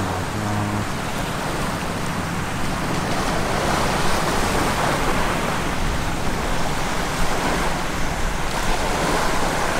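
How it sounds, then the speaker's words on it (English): Surf washing onto a beach at Port Barton, Palawan, a steady loud roar of breaking waves with wind noise across the microphone, continuous and close, no voices. "We've just walked down to this beach and look at it here."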